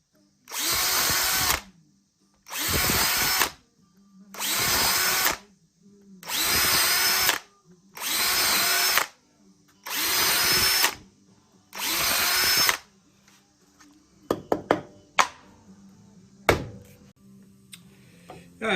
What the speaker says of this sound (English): So I'm just going to pre-drill those screws